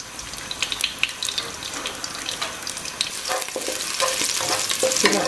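Chopped onion hitting hot oil in a pot for a Bengali fish and potato dish, a bright busy sizzle with rapid stirring crackles that swells louder toward the end, close and continuous with no voices.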